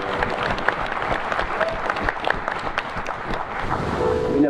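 Audience applause at a live concert at Malmitalo, a broad wash of clapping from a large hall crowd, steady and continuous with no speech.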